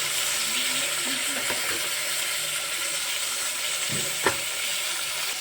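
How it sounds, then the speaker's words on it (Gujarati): Steady sizzling of valor muthiya vegetable curry with eggplant frying in a pan, continuous crackle with occasional scraping stirs, close and alone. "હવે એને આપણે બે મિનિટ સાતડી લેશું"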